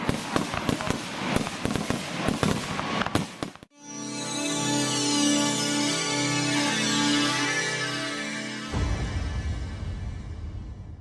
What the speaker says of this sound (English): The fireworks that we have is well displayed, 20-25 minutes worth of fireworks